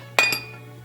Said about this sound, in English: for the stemware, I'm going to use my cut glass Longchamp